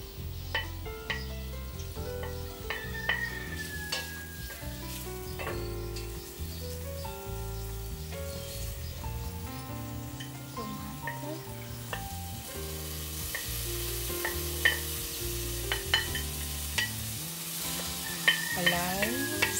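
Onions, spices and garlic frying in a little oil in a pan, a steady close sizzle with light stirring scrapes throughout, growing slightly louder and crackling more toward the end.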